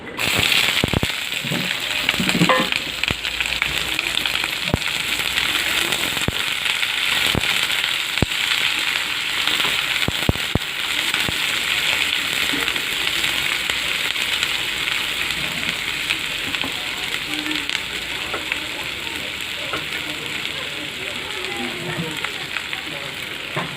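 Bay leaves and onion frying in oil for a chicken curry give a dense, continuous crackling sizzle close by, with sharp pops scattered through it.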